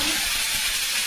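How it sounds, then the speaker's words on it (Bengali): Onions frying in hot oil with cumin for a chicken and prawn kalia, a steady loud bright sizzle that continues unbroken with no talking. "তেল গরম হয়ে গেছে, পেঁয়াজগুলো আমি দিয়ে দিলাম"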